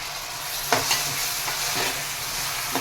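Onion and tomatoes fry in a pan while being stirred, a continuous hiss of sizzling broken by a few sharp spatula taps against the pan, with no speech.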